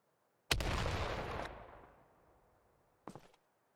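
Grenade in the video game Battalion 1944: a loud, sharp blast with a long rumbling decay, then a short, quieter second burst about two and a half seconds later.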